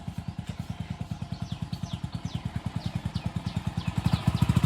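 A motorcycle engine idles nearby while warming up, a fast, even thumping putter that swells slightly louder toward the end, with faint background sounds.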